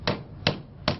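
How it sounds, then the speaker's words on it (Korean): Three sharp hammer blows at a steady, even pace ring out close by as elderly residents work on house construction in a roughly 50-year-old home down a dead-end alley, with no voices. "아니나 다를까 어르신들 한창 뚝딱뚝딱 공사 중이시다."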